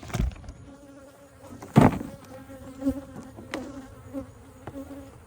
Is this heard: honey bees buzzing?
yes